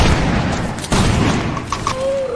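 A volley of musket gunfire in a Holland vs Spanish Empire battle game fires as a loud, layered burst of overlapping shots, with scattered booms and battlefield noise continuing afterward.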